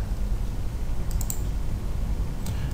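A computer mouse clicks while working in AutoCAD, with a few sharp, close clicks, two in quick succession and then one more, over a low steady room hum.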